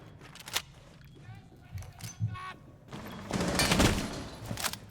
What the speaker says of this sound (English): Dev takes some gunfire.